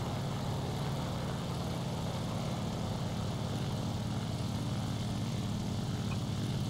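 Propeller engine of a Ki-43 III otsu Hayabusa fighter in the War Thunder video game, a steady, loud, dense droning roar that holds unbroken throughout with no talking.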